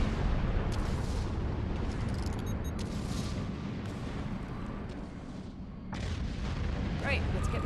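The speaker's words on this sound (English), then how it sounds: "We're gonna need to move fast once things stop exploding." Explosions from a bombing run in the video game Star Trek Online, a dense, continuous rumble of blasts and booms with a brief dip near the end before resuming, with a voice speaking over the din.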